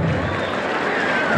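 A crowd applauds and cheers at a bull riding tournament at a fair in San Miguel Ajusco, a broad steady wash of clapping heard from a distance.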